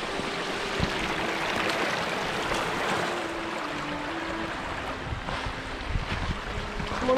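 Steady broadband rush of a flowing river fills the scene, continuous and fairly close, with a faint low hum and occasional gusts of wind.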